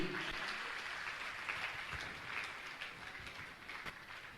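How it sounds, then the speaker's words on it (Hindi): An audience at a Jain religious discourse gathering applauds, a steady, faint wash of many hands clapping throughout, somewhat distant and without voices. "श्रीमती पूनम जी गुणायतन सीओ परिवार से जोरदार ताली आपकी बजना चाहिए।"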